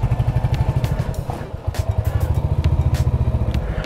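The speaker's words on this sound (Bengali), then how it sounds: "বাইকটা ঢুকিয়ে দিচ্ছি।" A motorcycle is ridden slowly into a hotel parking area, its engine thumping in a fast, even low-pitched pulse, loud and close, with a brief dip midway and some clatter.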